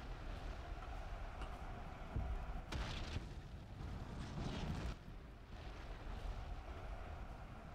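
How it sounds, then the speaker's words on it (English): A deep rumbling blast rolls out in the video game Ultimate Epic Battle Simulator during a vast million-soldier battle, with two heavy booming bursts rising over a constant low roar. "That's a really satisfying explosion."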